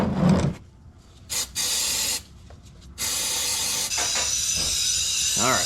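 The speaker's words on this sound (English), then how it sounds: "we're gonna clean off this connector with some connector cleaner" Connector cleaner sprayed from an aerosol can onto an electrical connector on a 2020 RAM 1500 during a 4WD repair, several loud hissing bursts of varying length, close up, with no talking.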